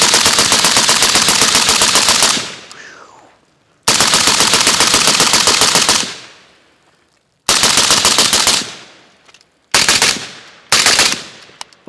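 Automatic bursts from a Riley Defense Krink in 7.62x39, loud and close, in several long strings of rapid shots separated by short pauses, the last two bursts brief.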